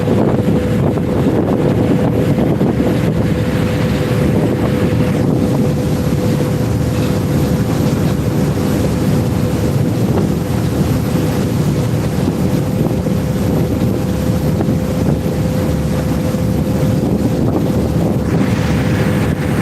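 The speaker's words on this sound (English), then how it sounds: "All I can hear is the engine." Steady loud drone of a Thames Clipper boat engine on the River Thames near the flood barrier, a constant low hum with buffeting wind noise on the microphone throughout, no talk.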